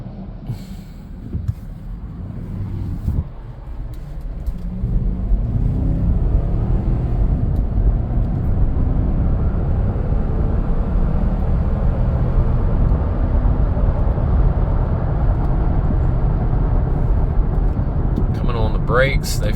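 A Toyota Land Cruiser 200 Series accelerates up to speed, its engine and road noise building into a steady loud rumble heard from inside the cabin, with a voice speaking over it.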